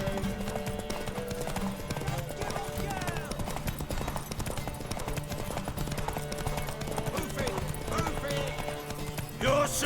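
Horse hooves clip-clop in a steady galloping rhythm throughout The Witcher 3 game scene, with occasional whinnies and voices talking over the hoofbeats.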